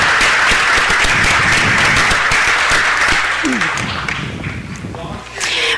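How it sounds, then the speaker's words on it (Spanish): A crowd at a city council meeting claps loudly for several seconds, then the applause thins and fades toward the end, with voices faintly audible as it dies down. "Vamos a darle un gran, gran aplauso por eso"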